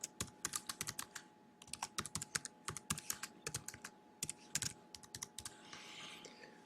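Fingers typing on a computer keyboard at close range, quick irregular bursts of crisp key clicks with short pauses between them, against a faint steady hum and with no talking.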